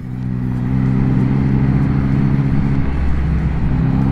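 A 2021 Yamaha MT-09 SP motorcycle engine drones steadily while riding, a constant mid-pitched rumble heard close and loud throughout, with no talking.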